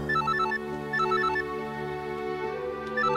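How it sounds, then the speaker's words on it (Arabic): A telephone ringtone plays in repeating bursts of electronic tones over a steady droning bed. The ringing is moderately loud and continues through the whole clip. "ما ترد على التليفون. ما بتردش على التليفون ليه؟ رد على التليفون."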